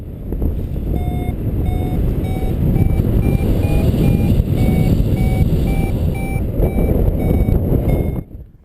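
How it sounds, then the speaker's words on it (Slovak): Paragliding variometer beeping steadily in short repeated electronic pips while the pilot climbs, loud and close over a constant rush of wind. "Ten prístroj pri stúpaní vydáva prerušovaný pípavý zvuk"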